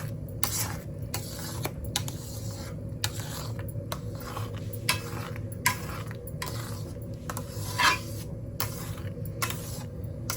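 Chhana being stirred steadily in a pan for sandesh, a soft continuous scraping with regular clinks of a spatula against the metal, close and moderately loud, with no voices.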